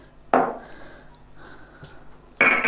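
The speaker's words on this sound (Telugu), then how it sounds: "ఇట్లా కచ్చపచ్చ దంచుకుంటే సరిపోతుంది" Whole spices being pounded coarsely in a mortar while preparing Telangana-style chicken fry, two sharp, heavy thuds separated by a quiet stretch with faint knocks in between.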